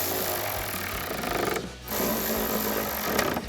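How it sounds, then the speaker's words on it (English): A ratchet tightens the nuts on a 2024 Mustang tail light in a close, grinding, buzzy run of clicks. A brief pause breaks it before it resumes. "I'm going to throw my ratchet on the other side and tighten those down."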